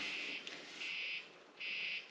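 A high electronic beep from a lithium soldering iron's box sounds in short repeated pulses, about three tones with gaps between them, faint and close.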